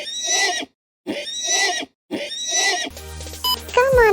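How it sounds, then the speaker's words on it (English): Three loud, close horse neighs come in even succession with short silent gaps, followed by a burst of bright synthesized game music and chimes. "Horse sounds neigh, neigh, neigh."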